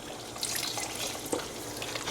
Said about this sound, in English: we're just gonna add a little bit more water because the potato also takes up a lot of water to cook